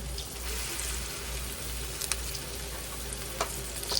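Spoonfuls of squash pup batter frying in hot grease, a steady close sizzle and crackle with occasional sharper pops, no voices.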